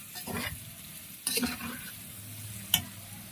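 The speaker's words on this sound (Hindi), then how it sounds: "5 मिनट के लिए हमने मसालों को अच्छे से गोभी के साथ फ्राई करना है।" Cauliflower fries with turmeric and other spices in a pan, heard as a low sizzle broken by a few sharp scraping stirs and clatters of a spoon against the pan, with no talking.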